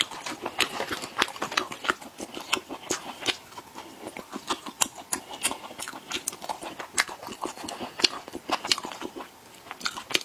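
Close-up crunchy chewing and biting of a spicy snack in ASMR style, dense irregular crackling bites and mouth sounds throughout.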